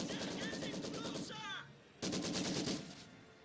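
Rapid machine gun bursts in Company of Heroes 2 rattle in dense, repeated volleys, with a short lull before another loud burst of fire and background battle noise.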